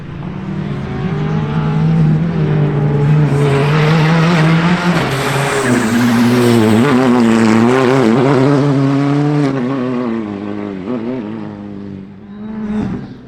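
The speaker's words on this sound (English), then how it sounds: "Second fastest and first of our R5 cars is the I-20 R5 of Connor Wilson." A Hyundai i20 R5 rally car blasts along a winter rally stage at Shackleton, its engine howling loud and close, the pitch climbing and dropping through gear changes before fading briefly at the end.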